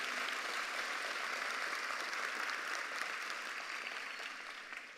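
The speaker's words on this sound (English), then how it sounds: "Parents, our seniors want to give you a round of applause for the work that you have done" A graduation audience at the 2022 Lake Worth Community High School ceremony gives parents a round of applause: a dense, steady wash of many hands clapping, loud and sustained, tapering slightly toward the end.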